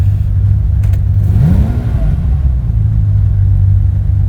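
A 1982 Ferrari 400i V12 with a 5-speed manual, idling loud and close with a deep steady rumble, then revved once so the pitch swells and falls back to idle.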